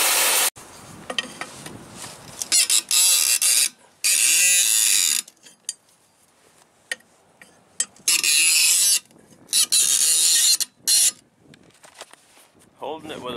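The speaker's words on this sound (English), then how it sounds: "Holding it with a pipe wrench and using another wrench inside the clevis" Wrenches, including a pipe wrench, work on the clevis of a truck's parking brake chamber, giving loud bursts of metallic ratcheting separated by pauses, with quieter clinks between.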